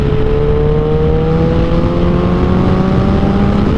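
A Suzuki Hayabusa Gen 2 motorcycle engine hums loud and steady while riding at light throttle, a smooth continuous drone with a slowly rising pitch and wind rush.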